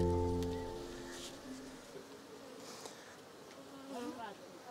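Apis cerana honey bees buzzing around a village hive, a steady close insect drone with passing flybys, fairly quiet, with a faint mechanical tone at the start.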